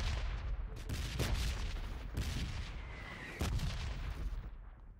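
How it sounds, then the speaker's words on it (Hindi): Repeated booms and bursts of gunfire in PUBG on the Erangel map, loud explosive thuds recurring every second or so over a continuous rumbling background. "अरे घर के अंदर से बम गिर रहा है"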